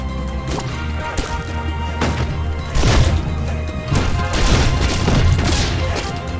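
Repeated loud smashes and thwacks in Burrito Bison: Launcha Libre as a bomb slams into the player, a rapid series of crashing impacts over a low rumbling bed.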